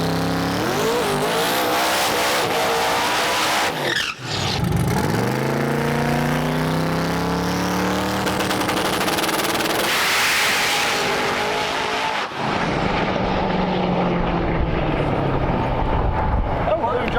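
A drag vehicle launches off the trans brake in the woods, a loud engine roar surging and revving with tire noise, close and dominant, with voices talking over it.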